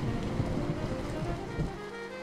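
Steady rain falling on a city at night, a dense continuous patter with a low rumbling undertone, moderately loud and even throughout.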